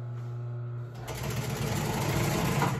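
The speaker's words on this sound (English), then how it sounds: "start sewing, do the back stitch so the threads don't come undone, and away we go" An upholstery sewing machine starts up and stitches an upholstery cover, a low steady motor hum building into a louder, continuous mechanical whir of running stitching that carries on to the end.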